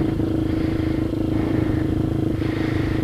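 A Kayo MR150 dirt bike engine cranks and runs on a cold start with no choke, giving a loud, steady, rough low-pitched drone with mechanical clatter throughout, close by and without talk.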